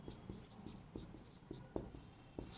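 Pen strokes on paper during a Class 12 chemistry lesson on chemical kinetics, a string of short soft scratches in an irregular rhythm, close and quiet, with no talking.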